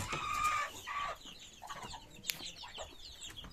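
Chickens cluck and squawk in a busy coop, several birds calling over one another in short bursts with no talking.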